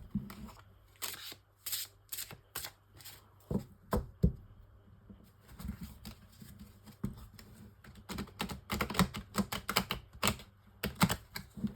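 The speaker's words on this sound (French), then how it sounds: "je prends le Encore Tarot pour le tirage en 9 cartes" Encore Tarot cards being shuffled and drawn for a nine-card spread, heard as crisp snapping and riffling bursts in uneven clusters, close and fairly loud, with a brief lull midway and no voices.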